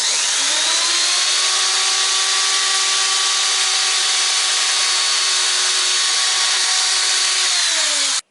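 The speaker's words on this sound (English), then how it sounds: "So we'll just drill a hole through." A power drill bores a hole through a wooden bench, its whine steady and loud for about eight seconds before cutting off abruptly, with no voices.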